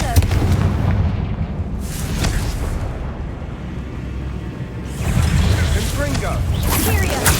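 Loud, rumbling blasts from the Confringo blasting spell in Hogwarts Legacy, two heavy booming explosions with roaring tails, one early and one near the end, over continuous game noise.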